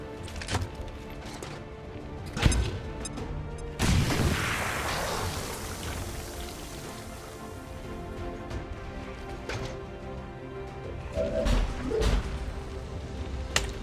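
An acid bomb explodes in XCOM 2 with a sudden loud blast followed by a crackling, rumbling tail, set among scattered sharp game thuds and clicks.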